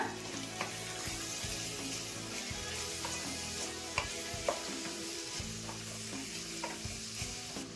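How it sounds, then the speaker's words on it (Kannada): Grated carrot, chayote and other vegetables sautéing in oil in a pan, a continuous close sizzle with occasional stirring scrapes and light taps, steady and unbroken with no voices. "ಇವಾಗ ತರಕಾರಿಗಳೆಲ್ಲ ಎಣ್ಣೆಲೆ ಬಾಡ್ಸ್ಕೊಂಡ್ಬಿಡೋಣ"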